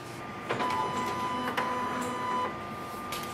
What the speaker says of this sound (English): Plug in the power cable and switch on the printer.